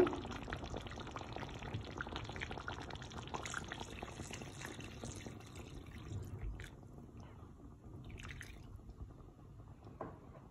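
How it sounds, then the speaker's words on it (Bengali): Water poured into a simmering chicken curry with capsicum and potato, a soft, fairly faint pouring and bubbling that runs steadily for about six seconds, then thins to quieter kitchen sounds with a few small clicks. "এখন আমি একটু জল দিব।"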